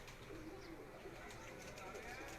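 Pigeons cooing steadily inside a net cage on a rooftop, a continuous soft murmur of several birds fairly close, with faint voices in the background.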